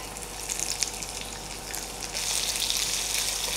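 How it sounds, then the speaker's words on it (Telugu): Onion pieces frying in a pan while cooking eggplant bajji, a steady soft sizzle with faint crackles, swelling a little louder toward the end. "కొంచెం ఫ్రై అవనిద్దాం"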